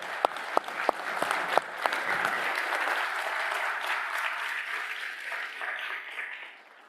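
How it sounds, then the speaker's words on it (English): A round of applause at a closing plenary session for event team members standing up; a few sharp, distinct claps open it before the crowd fills in with steady, moderate clapping that gradually thins and fades out. "could you please give them a round of applause?"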